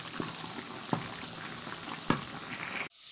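Boiled macaroni and its hot water drained through a strainer, a steady rushing pour with a few faint clanks before it stops abruptly, no talking.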